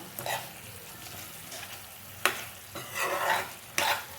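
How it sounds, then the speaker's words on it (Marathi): Dry chicken being stir-fried in a pan after coriander is added, with soft continuous sizzling and a few sharp scraping strokes of the spatula against the pan, close by. "आता आपण उरलेली जी कोथिंबीर आहे ती पण यामध्ये घालून घेऊया. परत चांगलं परतूया."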